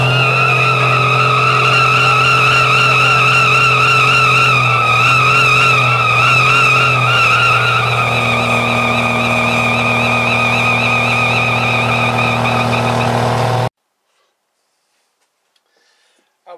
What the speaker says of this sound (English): we'll try and do a burnout.